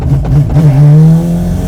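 Mazda RX7 with a 26B rotary race-style engine revving hard while driving, a loud, steady buzzing drone rising in pitch after a couple of quick blips.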